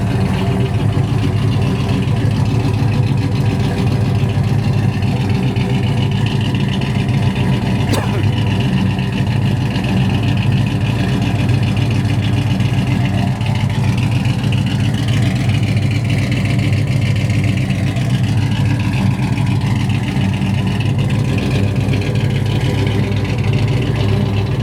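A 1965 Plymouth Belvedere with a 426 Hemi 472 cubic-inch stroker engine idles loud and steady the whole time, a deep, constant rumble with no voices over it.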